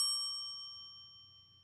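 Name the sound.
bell ringing at a baseball game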